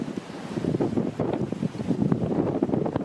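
Rough sea at Langeron beach churns with continuous broken surf and gusting wind buffeting the microphone, a steady noisy roar with repeated wave pulses and no voices.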